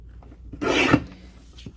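A single short rasping cut trims a paper kite print. The dry scraping stroke lasts under half a second and is close and fairly quiet, with hush before and after.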